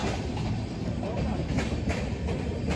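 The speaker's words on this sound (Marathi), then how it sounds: "गाईस ट्रेन आली" A Mumbai local train pulls in, a loud, continuous broadband rumble and rattle filling the platform, with faint voices in the background.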